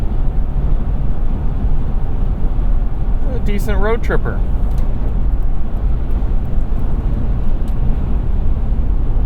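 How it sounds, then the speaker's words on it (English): Steady, loud low-frequency road rumble fills the cabin of a 2006 Toyota 4Runner V-8 cruising on a highway, with someone briefly talking over it. "road noise really isn't too bad"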